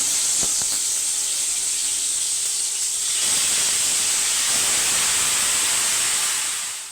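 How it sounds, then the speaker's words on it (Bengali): Marinated chicken hitting hot mustard oil, a loud broad sizzle that starts with a brief crackle and swells into a steady close hiss before easing off at the end. "এখন তেলটা গরম হয়ে গেছে এবার আমি আস্তে আস্তে ম্যারিনেট করা মাংসটা দিয়ে"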